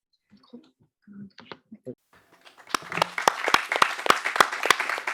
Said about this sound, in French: tout le monde vous applaudit ici